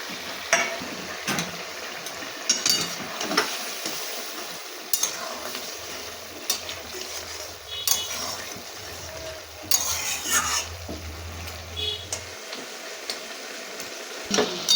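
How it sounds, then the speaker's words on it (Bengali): Fried mourala fish going into a bubbling fish curry, with a steady sizzle and simmer under intermittent spoon scrapes and clinks against the pan, no talk. "ঝোলটা আমার খুব ভালোভাবে ফুটে গেছে, এবার আমি ভেজে রাখা মাছগুলো ঝোলের মধ্যে দিয়ে দিচ্ছি।"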